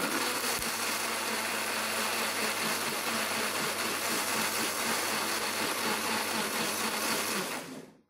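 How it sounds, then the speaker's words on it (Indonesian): An electric spice grinder milling coriander seeds runs as a loud, steady, close motor whir with a dense grinding rattle, then cuts off abruptly at the very end. "Saya menggiling ketumbar belakangan karena supaya tidak terlalu halus ya."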